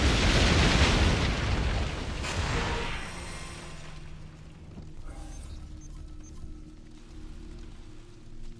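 A battleship explodes and sinks in Assassin's Creed IV, a loud, dense roaring blast that holds for a couple of seconds and then tails off into a low rumbling wash with scattered debris and splashing.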